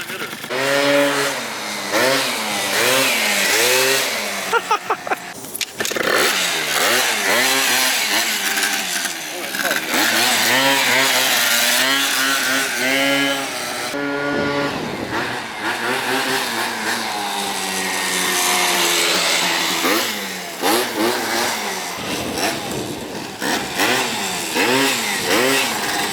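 A 70cc Yamaha BWS scooter engine running rich, revving up and down loudly in rising and falling whines, with people talking over it.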